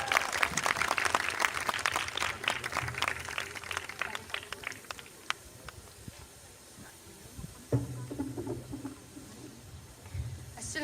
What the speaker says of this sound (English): please welcome Hajra Farouk with a loud applause